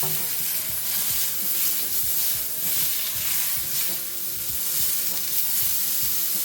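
Bok choy frying in hot oil in a pan, a loud steady sizzle with crackling spatter and occasional stirring scrapes, continuous throughout with no talking.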